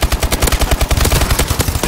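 Rapid, evenly spaced gunfire in Call of Duty: Black Ops 3 rattles out in a loud, unbroken automatic burst.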